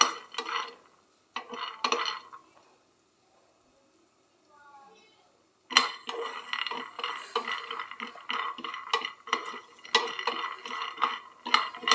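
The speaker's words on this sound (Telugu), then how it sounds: "ఇలా పల్లీలని కొంచెం డ్రై రోస్ట్ చేసుకొని అందులోకి ట్రాన్స్ఫర్ చేసుకుందాం." Peanuts dry roast in a pan, giving a steady run of scraping and clinking stirs that stop briefly partway through and then resume, under a voice speaking.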